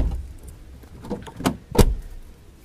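A Chevrolet Meriva car locks with a few soft mechanical clunks followed by two sharp clicks close by, over quiet outdoor background and no talking.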